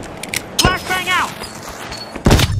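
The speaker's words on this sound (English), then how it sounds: "Flashbang out!" A flashbang grenade goes off in the online shooter The Finals, giving a sharp burst with a bright ringing tail amid gunfire-like thumps and game noise. A second loud blast hits near the end.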